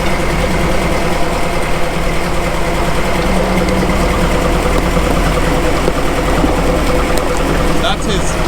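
A first-generation Toyota rock crawler on 40-inch tires with dual transfer cases idles in double low as it creeps forward, a steady, loud, rumbling engine drone running without break under constant ambient noise.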